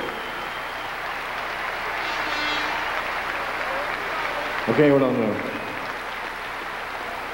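Audience applause fills a kickboxing event hall, a steady wash of clapping under brief spoken words from a man on the microphone.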